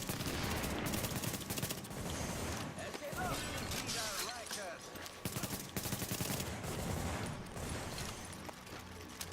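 Gunfire in the video game The Division, dense bursts of shots repeating through the whole stretch alongside other game effects, with people talking over it now and then.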